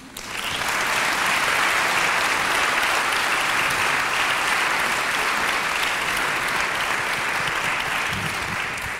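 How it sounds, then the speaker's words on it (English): A televised debate audience breaks into loud, dense applause that swells within the first second and holds evenly, clapping in unison without pause. "Thank you very much for that applause."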